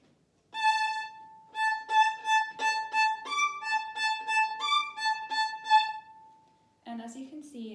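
A violin plays measure 37 of a Vivaldi piece as a clear, close solo line of steady, evenly bowed notes, ending in a brief burst of different noise.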